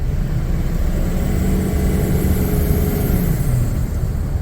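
A Chevrolet Express 3500 diesel van with a boost leak, its engine giving a loud, steady drone under throttle with a faint high whine on top, continuous and close, with no voices.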